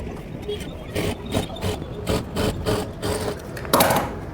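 A sewing machine runs in short, rhythmic bursts while stitching a katori blouse, the rapid needle clatter close and steady, with a person talking over it.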